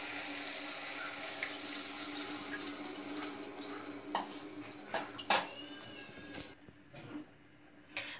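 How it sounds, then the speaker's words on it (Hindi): Water poured into a pan of raw jackfruit curry cooking with spices in a home kitchen, a steady running splash lasting several seconds with faint clinks of a utensil near the end. "अब हम इसमें पानी ऐड करेंगे।"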